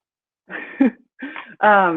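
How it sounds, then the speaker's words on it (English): Three brief bursts of coughing and throat clearing, close up, separated by short pauses. "I'm coughing."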